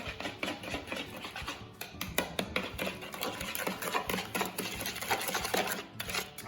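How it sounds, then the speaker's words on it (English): A spoon or whisk clinks against a bowl while vanilla is stirred into zucchini bread batter with salt. The rapid, uneven scraping and tapping is close and fairly soft, with no talk. "So we're going to quickly just mix all of that together"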